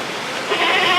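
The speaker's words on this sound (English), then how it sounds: "Nothing like a little baby goat" A baby goat bleats during ear tagging, a steady, near, nasal cry that swells louder about halfway through and holds to the end.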